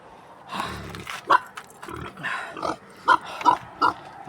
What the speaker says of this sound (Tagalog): So kuha kami baboy.